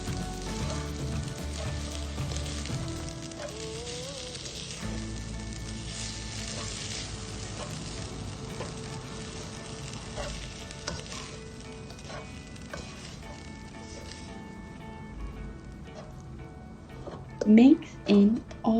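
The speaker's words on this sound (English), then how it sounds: "Next, put in kimchi, which is the main ingredient of this recipe and also its juices" Kimchi and its juices fry in a pan for kimchi fried rice, a steady sizzle running throughout beneath other sounds, with a few louder clatters near the end.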